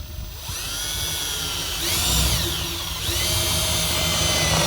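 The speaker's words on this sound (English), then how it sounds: "drill a 1/4-inch hole" A power drill whines steadily while boring a 1/4-inch hole in a boat console, its pitch dipping and rising twice as the bit bites, loud and close throughout.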